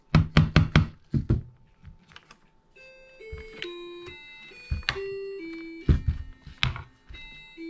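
A 45/70 rifle lock being seated into place with a few sharp, close taps in quick succession, followed by quieter knocks and handling clicks amid a faint tonal background.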